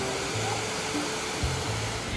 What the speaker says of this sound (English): how beautiful to see the waterfall and hear it flow